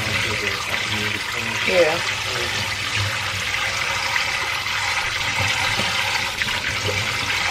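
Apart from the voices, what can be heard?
running tap water rinsing oxtails in a sink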